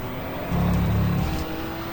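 Touring cars racing at Donington in the 1987 British Touring Car Championship, a steady engine roar that swells as a car passes close by, then fades.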